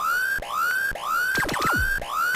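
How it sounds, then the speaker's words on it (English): Repeating rising electronic siren from The Terminator on Sega CD, each whooping sweep lasting about half a second, loud and continuous, with a few quick descending zap effects layered in midway. "try to shoot that annoying ass alarm"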